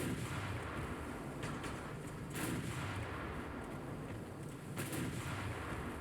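Naval guns firing during a battle with destroyers in the warship game Ultimate Admiral: Dreadnoughts, a steady low rumble of broadside fire with a few sharper distant booms over a continuous roar.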